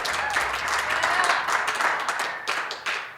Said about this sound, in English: That's a robust applause.